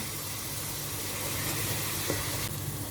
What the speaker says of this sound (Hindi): घी हमारा साइड पे आ चुका हुआ है, ठीक है। इसको अब हमने अच्छे तरीके के साथ 2 से 3 मिनट के लिए अच्छे से भून लेना है।